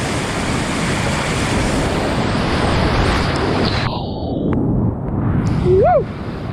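Whitewater roars continuously on Overflow Creek in Georgia while running a blind drop, a loud broadband rush of churning rapids with wind buffeting the microphone, and a brief whoop near the end.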